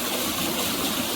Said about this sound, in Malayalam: മീൻകറി തിളയ്ക്കുന്നുണ്ട്.